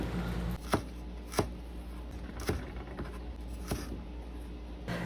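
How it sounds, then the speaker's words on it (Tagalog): A knife slices ginger into thin matchstick strips, giving a handful of sharp, separate chopping taps against a board at an uneven pace over a steady low room hum. "Hiwang palitoy naman ang gawin natin sa luya."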